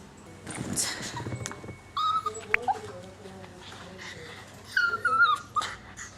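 A dog whimpers and yips in short bursts at a veterinary clinic, with high whining cries coming in several clusters over a background of quiet room noise and some faint talk.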